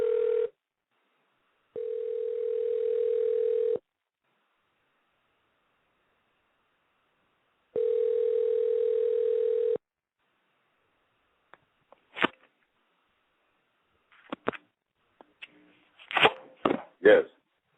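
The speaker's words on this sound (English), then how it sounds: "I'm going to call him right from the show. So let me just dial him in." Outgoing phone call: two steady electronic ringing tones about two seconds long with a long silence between, then scattered faint clicks and handling noises.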